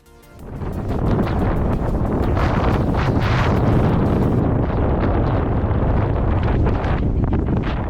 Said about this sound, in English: Man, is this part of New Mexico windy.